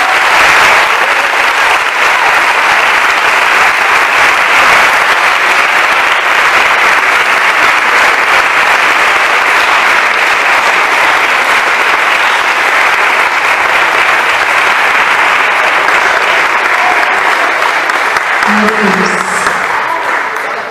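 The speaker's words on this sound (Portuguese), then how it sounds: "Você pode bater uma salva de palmas?" A long, loud, sustained round of applause from a Baptist congregation at a seminary service, dense continuous clapping with a faint voice surfacing near the end.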